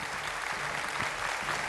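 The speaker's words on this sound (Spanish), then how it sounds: "pueden aplaudirle, claro que sí" Studio audience clapping for a rock band on a televised singing competition, a dense, even burst of applause throughout, fairly close and with no talk over it.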